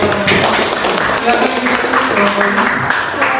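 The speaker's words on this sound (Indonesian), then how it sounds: "tepuk tangan buat kelompok" Crowd applause with scattered clapping, fairly loud and steady throughout, with some voices mixed in.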